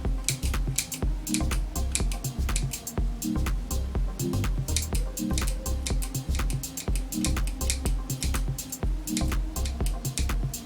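Scissors snip through hair in a quick, regular series of crisp clicks, close up, with the short cuts repeating in a steady rhythm.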